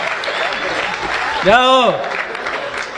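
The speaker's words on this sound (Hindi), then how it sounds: "थोड़ा तालियों का और उत्सव करिए" Applause from the audience at a Hindi comic poetry gathering (kavi sammelan), a steady wash of clapping running throughout, briefly overlapped by a voice speaking loudly over it midway.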